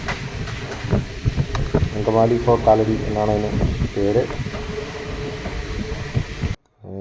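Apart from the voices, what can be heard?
Kottayam–Nilambur Express train running between stations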